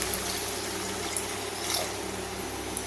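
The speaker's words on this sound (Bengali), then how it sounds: "এবারে আমি প্রয়োজন মতো জল অ্যাড করে দেব।" Water is poured into a pan of banana kofta curry. It makes a steady, continuous gushing pour with an even loudness throughout, and no one speaks.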